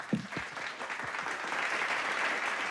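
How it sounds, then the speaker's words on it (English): An audience at a panel discussion bursts into applause, a steady, fairly close wash of clapping that holds and swells slightly over a few seconds. "Let's clap for her."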